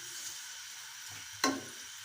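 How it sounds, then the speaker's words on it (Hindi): A tomato fries in a pan for chicken yakhni pulao, giving a soft, steady sizzle. One short, sharp crackle or clink stands out midway. No talking. "ये हम इसमें शामिल करेंगे और इसको हम थोड़ा सा फ्राई करेंगे"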